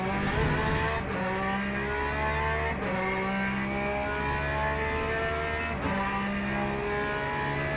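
A Ferrari race car in the Le Mans Ultimate racing game holds a high, steady engine whine, with several brief dips as it shifts or lifts off, loud and continuous with no talking.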